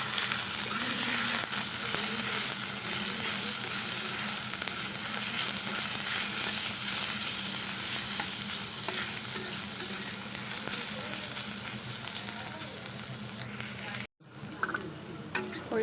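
Fermented bamboo shoot fries in oil with a souring fruit in the pan, giving a steady, even sizzle close by with faint stirring; the sizzle briefly cuts out near the end, then returns.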